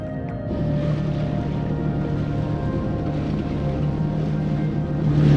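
A WaveRunner personal watercraft runs on a lake, its engine a steady, close droning hum that holds even throughout and swells slightly louder near the end, with no voices.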